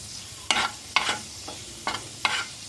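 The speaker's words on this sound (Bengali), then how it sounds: "আমি এর মধ্যে এখন 2টো শুকনো লঙ্কা দিয়ে দিচ্ছি। লঙ্কাটাকেও একটু এর সঙ্গে ভেজে নিচ্ছি।" Garlic and two dried red chillies fry in hot oil, with short bursts of scraping and sizzling from stirring about every half second, each burst fading back to a quiet low background.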